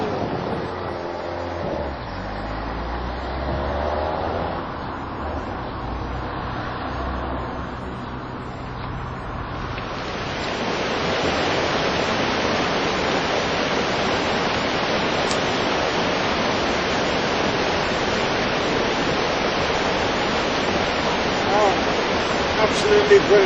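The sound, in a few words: water rushing along a trail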